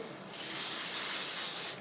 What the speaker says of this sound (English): Dry Bar Sparkling Soda Shine Mist, which is like a shine spray